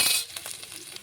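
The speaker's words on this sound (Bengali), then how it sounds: "তো এটা একটু ভাজা ভাজা করে এগুলো ওর মধ্যে দিয়ে দেবো।" Dried chilies crackle and sizzle in hot oil in a pan for a Bengali ripe pointed gourd recipe, a bright close spitting hiss that is loudest at first and thins into scattered pops, with no talking.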